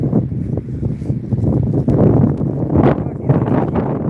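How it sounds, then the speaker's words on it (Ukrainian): Strong wind buffets the microphone in a constant rumbling roar, with voices talking underneath the gusts. "Бачиш, який вітер."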